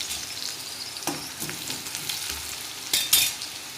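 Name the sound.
cabbage vegetable being sautéed and stirred in a pan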